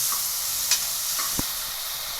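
Onion, tomato and green chilli sautéing in a pan for nattu koli chicken biryani, giving a steady soft sizzle with a couple of brief stirring clinks, close and alone without talk.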